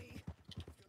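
Horse hooves clip-clop in Red Dead Online, a quick run of soft, close thuds at a steady trotting rhythm over under a second.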